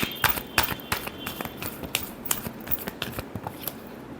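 Tarot cards are shuffled by hand in a quiet room, a quick series of crisp riffling snaps and slaps in irregular bursts, close and fairly soft.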